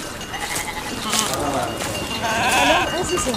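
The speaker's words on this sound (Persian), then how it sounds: "مراقب باشید گوسفندان" Sheep bleating in a pastoral setting, several wavering calls overlapping at moderate loudness, with a person talking over part of the flock.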